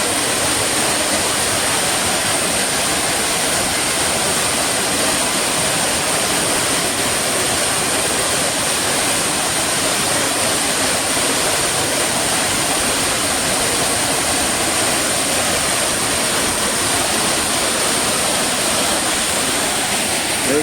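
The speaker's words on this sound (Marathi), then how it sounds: "हा अतिशय सुंदर असा हा सावडावचा धबधबा आहे" The Savdav waterfall near Kankavli roaring at full monsoon flow, a loud, unbroken wash of rushing, crashing water with no other sound rising above it.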